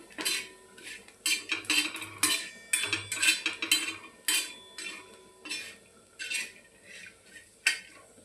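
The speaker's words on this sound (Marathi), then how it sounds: "बारीक गॅसवर खोबरं भाजायचं आहे." Dry coconut roasts over a low gas flame while a metal spoon stirs it in a pan, scraping and clinking in steady repeated bursts up close, with no talking.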